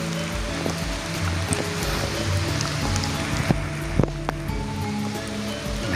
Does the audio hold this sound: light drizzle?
yes